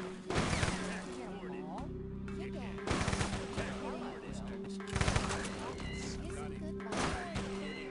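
Gunfire from the video game UFO: Aftershock rattles in several bursts over a steady electronic hum, with sharp loud volleys and shorter shots spread across the stretch, mixed with other game sound effects.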